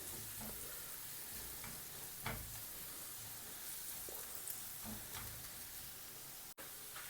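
Egg masala with green peas sizzles steadily in a pan as it sautés with turmeric and garam masala. Faint scrapes of stirring break in now and then over the constant frying hiss.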